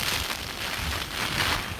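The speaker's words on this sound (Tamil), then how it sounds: "காற்றோடு சேர்ந்து மழையும்" Rain and gusting wind during a storm, a steady broad hiss of falling water and rushing air, fairly quiet and continuous with no voices.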